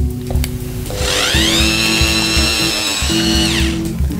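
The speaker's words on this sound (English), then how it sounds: "we're going to whisk this all on low speed until all the sugar is dissolved" An electric egg beater runs on low speed, whisking a sugar mixture, with a steady, fairly loud motor whine and whirring beaters that hold for about four seconds with no voices.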